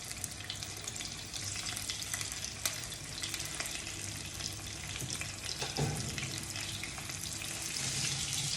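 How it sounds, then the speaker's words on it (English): Fish fries in hot mustard oil with a steady, dense sizzle and hiss, close by and quite faint, with no talk. "we will have to fry the fish. I need to heat my oil a little more."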